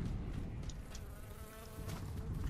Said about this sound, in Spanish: Moscas por ahí, zape